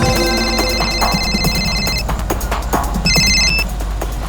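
A telephone rings in a busy street with traffic, loud electronic ring tones repeating over a constant background rumble and clatter, with a short pause before the next ring.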